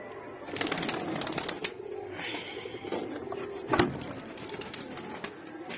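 Highflyer pigeons cooing in a loft room being prepared for a tournament, soft repeated coos at middling distance over a busy background of rustling and a sharp knock near the middle.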